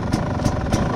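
A Rieju MR300 enduro dirt bike engine idles close by with a steady low rumble, pulsing roughly three times in one second, with no talk over it.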